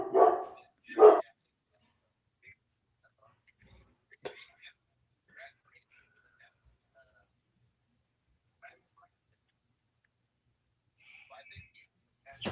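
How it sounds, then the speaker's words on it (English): A pet dog barks twice in quick, loud bursts at the start, then goes quiet apart from a few faint scattered sounds, heard in a home during a conversation. "Sorry, my dog is going nuts every time he sees my kid."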